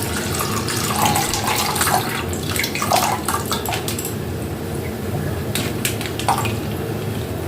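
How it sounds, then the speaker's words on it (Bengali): About a litre of milk poured into a pot for kheer, a steady close liquid splashing and gurgling that runs the whole time with a few small clinks on top. "এবার দুধটাকে আমি ঢেলে দেবো। 1 লিটারের মতো নিয়েছি।"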